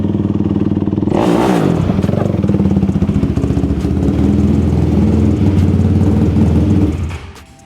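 Built Nissan 370Z engine on a Dynapack dyno, a loud sustained rasping roar that surges after a brief lull, holds high and harsh for several seconds, then cuts off and fades.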